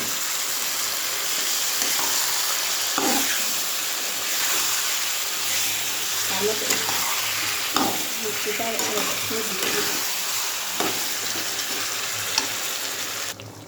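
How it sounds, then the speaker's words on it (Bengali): Meat is poured into onions fried until red in a pan. A loud, steady sizzle runs throughout, broken by regular scraping stirs, with no talking. "এবার আমি মাংসটা ঢেলে দেবো।"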